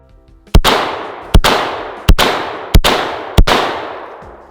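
Benelli M4 semi-automatic shotgun firing five loud, sharp blasts outdoors, each with a trailing echo, spaced roughly evenly apart with no talk.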